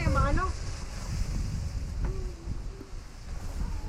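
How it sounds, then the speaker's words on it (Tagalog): Steady wind roars across an open microphone outdoors at a campsite, with low rumbling buffets throughout and a few brief voices talking over it. "Mahangin."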